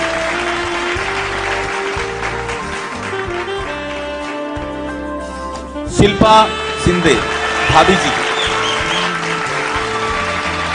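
Audience applause at a Human Rights Day celebration event with film stars on stage, clapping under music and an announcer's voice, with louder bursts of clapping midway.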